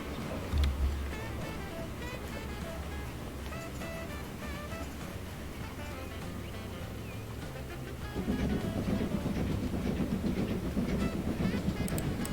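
Passenger train rolling along newly built track in Transport Fever 2, a steady mechanical rumble with rail clatter that grows louder and heavier toward the end, under game background sounds.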